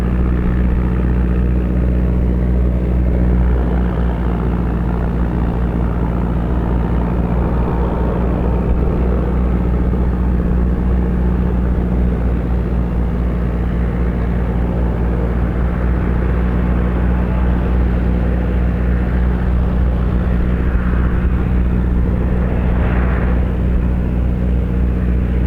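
A de Havilland Twin Otter propeller plane lands at Calgary/Springbank airport, heard as a loud, continuous engine roar and rumble held steady throughout, with no talking.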